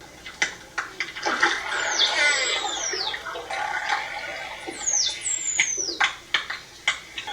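Captured by an underwater hydrophone, dolphins give two bursts of high, sweeping whistles rising and falling in pitch, among scattered clicks and a watery background wash.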